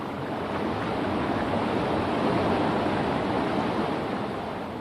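Water pours steadily over a small fall into the stream below, a dense, constant rushing roar that holds at the same level throughout with no other sounds.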